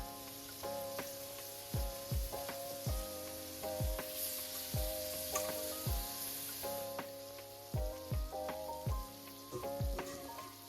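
Shrimp frying in a pan for rice and shrimp with garlic butter sauce: a soft, continuous sizzle sits beneath louder background music with a regular thumping beat throughout.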